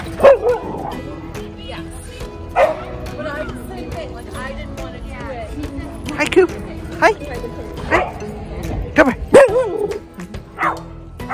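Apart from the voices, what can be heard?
dog barking at a dog park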